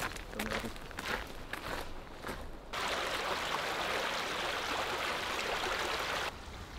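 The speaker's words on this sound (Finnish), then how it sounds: "Kato, tuossa on tämmönen pikku koski." Small rapids on a river beside a nature trail give a steady, close, broadband rush of flowing water. Footsteps and movement come first, then the water noise grows loud and continuous.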